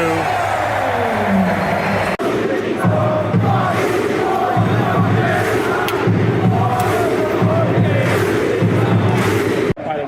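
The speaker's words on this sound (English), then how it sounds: "They were doing the Viking clap for Bodverson, who got the goal." Football crowd at a Bolton match chanting and clapping en masse, a dense continuous roar of voices with rhythmic swells, loud and sustained throughout, briefly cut off twice.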